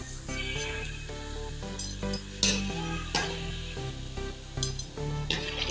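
Sweet puris fry in hot oil with a steady, soft sizzle beneath background music, punctuated by a few sharper crackles and utensil clinks.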